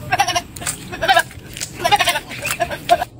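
A voice imitates a sheep, giving several wavering, nasal bleats in short bursts, fairly close and loud.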